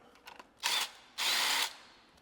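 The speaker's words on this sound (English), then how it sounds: "throw that bolt in, get the threads started, and then zip it in with our drill." A power drill runs in two bursts, the second longer, driving a bolt into a bracket during assembly of an RFN Warrior Pro SX-E15 electric dirt bike, loud and close with faint handling clicks before and between.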